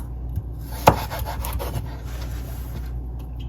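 Knife slicing vegetables into thin julienne strips for Jamaican escovitch fish: a few short, close cuts, one sharp knock on the board, then soft scraping strokes.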